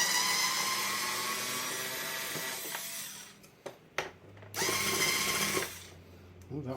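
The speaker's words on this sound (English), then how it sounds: "so we're going to use the power tools" Power tool whirring while driving out the screws of a phone during a teardown, bursts of high-pitched motor buzz that stop and start several times, close and moderately loud.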